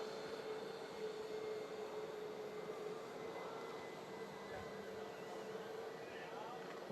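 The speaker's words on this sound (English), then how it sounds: "TUI Dreamliner." A TUI Boeing 787 Dreamliner takes off at Manchester Airport, its jet engines giving a steady, distant roar that holds evenly throughout, with a sustained tonal hum riding on broadband rumble and a voice talking faintly over it.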